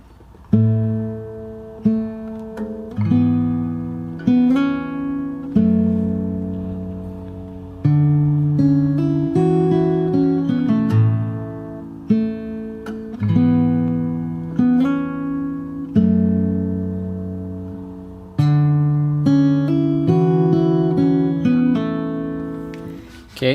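Fingerstyle guitar plays the stripped-back second part of a song's chorus from Hamilton, with sparse plucked bass notes and chords ringing out one after another, close and alone without talk.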